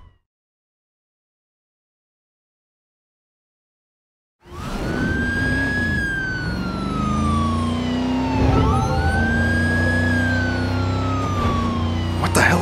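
Ambulance siren in the video game Driver San Francisco, starting after a few seconds of silence with a loud, close, sweeping wail that rises and falls over engine rumble, with no talking.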